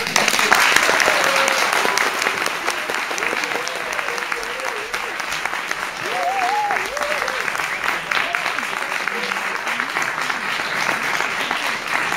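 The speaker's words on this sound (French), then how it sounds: "je vais vous demander, avant de commencer, de les applaudir très fort" An audience applauds hard for student actors just before a theatre performance of the play "Quoi de neuf docteur", a dense, steady clapping that fills the room, with a few voices calling out over it.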